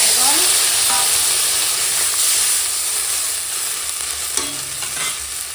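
Vegetables fry with spices in a pan for a spinach chorchori, a loud, dense, hissing sizzle that runs steadily throughout, with faint stirring scrapes under it.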